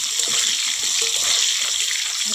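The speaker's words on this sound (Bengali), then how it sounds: "তারপরে সয়াবিন বড়িগুলো ভেজে নেব একইভাবে।" Soybean chunks frying in oil with a little salt over a wood-fired stove, a continuous dense hissing sizzle that stays even and close throughout.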